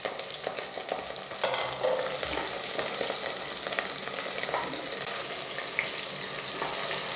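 Shallots, garlic, cinnamon, cloves and cardamom fry in oil for a mutton cashew fry, with a continuous dense sizzle and occasional stirring scrapes, close and steady throughout.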